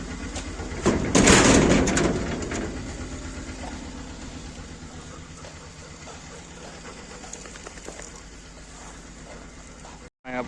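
A tractor engine idles steadily with a low, continuous rumble. A louder surge comes near the start, then the engine settles into an even drone until a brief cut near the end.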